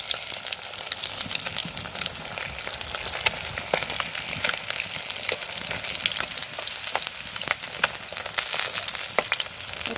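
Fish shallow-frying in a pan, a continuous close crackling sizzle with sharp spattering pops throughout and no talk.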